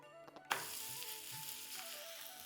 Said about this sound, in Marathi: थोडंसं तेल घालू आणि पराठे एक एक करून भाजायला घेऊ.